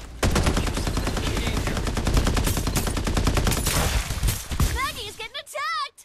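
Loud, rapid automatic gunfire from the video game Farlight 84, a long steady rattle of shots that stops near the end, followed by a few short warbling electronic game tones and some talk.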